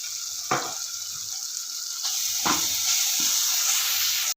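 Schezwan sauce spooned into a hot pan of fried rice, a soft steady sizzle with a few short scraping knocks of a spoon against the pan, close and fairly quiet.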